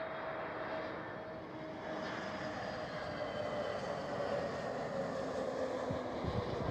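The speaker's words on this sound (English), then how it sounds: "Next one up, KLM A321neo, brand new, at least under a year old." A brand-new KLM Airbus A321neo airliner passes at Amsterdam Schiphol, its steady jet roar filling the scene at a constant level, broad and loud throughout with no voices.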